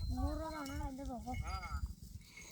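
Sheep bleat close by, one long wavering cry followed by a shorter second bleat, with faint rustling and outdoor background noise around them.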